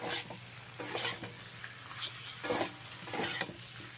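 Pumpkin and chopped tomato fry in a pan, a close sizzle rising in repeated waves as the vegetables are stirred and scraped, without any voices.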